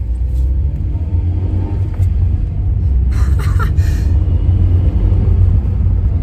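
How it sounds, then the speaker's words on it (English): A small 998cc one-litre, 60 bhp car drives along a road, a steady loud low engine rumble with road noise heard from inside the car, close and continuous with brief faint clicks and no talk. "The car is just a little 998cc, 1 litre engine, 60 brake horsepower"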